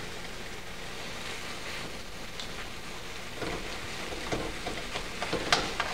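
Prawns sizzle and spit in a very hot pan of sauce, a soft steady crackle with sharper pops and a stir or clatter near the end.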